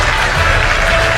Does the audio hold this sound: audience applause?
yes